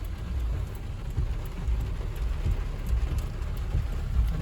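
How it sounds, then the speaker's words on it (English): Steady rain on a car during a drive through wet San Francisco streets, a soft continuous patter over low road rumble, with no talking. "Even though it's rainy and wet."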